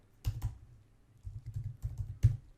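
Typing on a computer keyboard while entering Python data-processing code, heard as a few sharp, close clusters of key taps separated by short pauses, with no voice.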